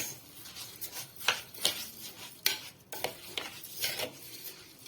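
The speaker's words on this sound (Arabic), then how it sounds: "قلبوا بقى الرز مع القشطه كده جامد" Rice being stirred vigorously with cream in a pot for a baked village rice casserole, a run of close scraping and knocking strokes of a spoon against the pot, fairly quiet, with no talking.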